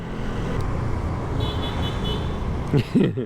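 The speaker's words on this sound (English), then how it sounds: "Someone's on the horn." Car horn honking amid city traffic, a faint tonal blare in the middle heard over a motorcycle's engine and wind noise while a rider talks.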